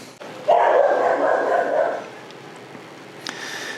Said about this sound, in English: The neighbor's dog is outside barking